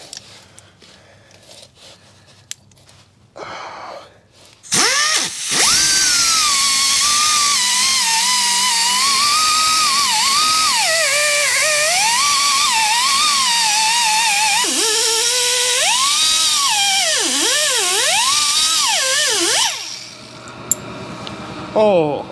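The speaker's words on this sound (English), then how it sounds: "Oh, and the compressor sings the song of sadness" A shop air compressor runs loudly and close by with a wavering, whining tone while a CJ5 differential is being worked on. The compressor starts after a few seconds of quieter activity and runs continuously before cutting off near the end.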